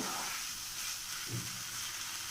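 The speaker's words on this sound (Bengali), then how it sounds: "তার জন্য এটাকে আমি এখন 5 মিনিট এইভাবে কষাতে থাকবো।" Aloo paneer capsicum masala sizzles steadily in a hot pan as it is sautéed, a continuous close frying hiss with a brief stirring scrape midway and no voices.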